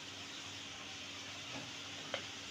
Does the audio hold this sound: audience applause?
no